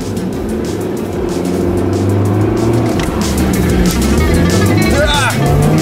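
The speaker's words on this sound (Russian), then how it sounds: "Испытаем двигатель на его моменте." A 1995 Opel Omega B with an X20XEV engine and manual gearbox revs hard at full throttle and climbs in pitch, roaring close by with a brief tire squeal near the end.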